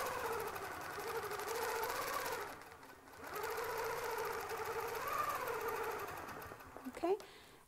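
A longarm quilting machine sews a clamshell pattern along a ruler template, giving a steady rapid whirring hum that dips briefly partway through before resuming, ending with a sharp click.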